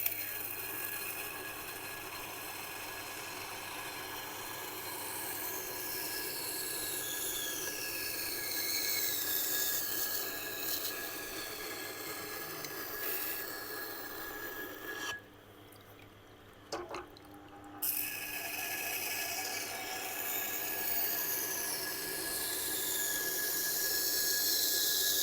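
Knife blade drawn in repeated passes across a resin bonded diamond stone, a thin continuous scraping hiss with a steady high whine, pausing briefly midway before the strokes resume.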